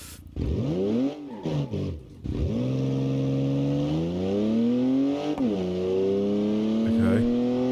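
A modded car engine in a driving video game, modelled on a real-life car, revs up and down in repeated loud sweeps, dropping between gear-like surges before holding a long climbing whine, with no talk over it.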